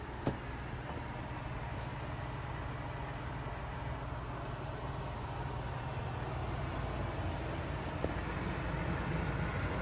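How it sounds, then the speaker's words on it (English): A steady broadband whooshing hum of a 2024 Pleasure-Way Plateau FL camper van's air conditioner running nearby on low, constant in level with a few faint clicks. "That's the sound of the AC."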